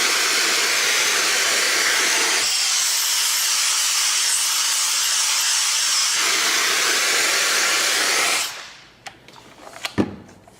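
A KENOS vacuum gripper lifting a sack runs with a loud, steady rushing hiss of suction air for about eight seconds, then cuts off, leaving quiet with a couple of faint knocks.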